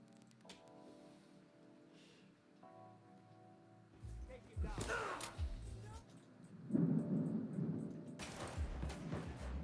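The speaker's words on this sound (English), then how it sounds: "that thunder is crazy right now" Thunder rolls in the video game Uncharted, low rumbling bursts swelling in the second half over a quiet rainy background, with a player talking beneath it.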